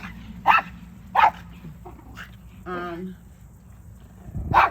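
Dog named Parker barking outdoors on a porch, several sharp separate barks spread out with pauses between them, a quieter whimpering sound in the middle, and a voice talking nearby.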